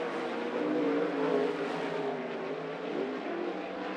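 360 sprint cars racing at Grays Harbor, a steady, loud engine roar that swells slightly and holds without a break for the whole stretch.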